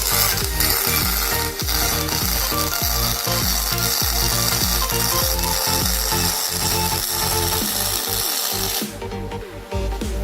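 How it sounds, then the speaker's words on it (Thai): Small electric wire-feed motor in a spool gun on an Umini welding machine whirs steadily and loudly with rapid rhythmic mechanical clicking, running continuously before easing off near the end. "ตรงปืนเชื่อมนี่จะมีมอเตอร์ขับ ให้ลวด แทงออกมาเร็วขึ้นนะครับ"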